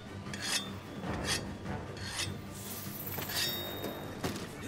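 Whetstone sharpening a weapon in Monster Hunter World: four rhythmic rasping strokes, each a bright gritty scrape about a second apart, close and steady over a low background hum.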